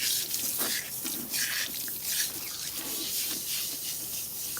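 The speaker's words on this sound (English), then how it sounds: "we're gonna use cool water to rinse her" A salon sink tap runs cool water to rinse hair, a soft steady hiss and splatter with faint drips and gurgles, quiet and close, with no talk over it.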